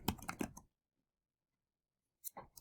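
A computer keyboard clatters with quick bursts of typing keystrokes, a cluster at the start, then silence, then a few more clicks near the end, close and clear.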